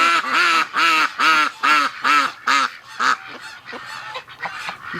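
Ducks and geese honk by a barn in a loud series of about seven regular, nasal calls, followed by a looser scatter of quacking from the flock; no one speaks.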